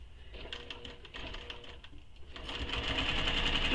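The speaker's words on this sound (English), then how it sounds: "And you're sewing this with the seam allowance given in the pattern." Sewing machine stitches sling pack pattern pieces, running in a rapid, steady mechanical chatter close by that speeds up and grows louder toward the end.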